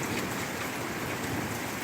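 Steady, dense downpour of rain from a sudden valley thunderstorm in the mountains, a continuous hiss of drops on surfaces with no distinct thunder clap, close and evenly loud throughout.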